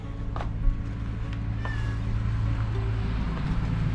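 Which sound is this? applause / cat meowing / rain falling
cat meowing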